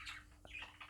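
Lutino budgerigar cockbirds give soft, faint chirps and short squawks in a quiet room, one brief call after another with a thin hum beneath.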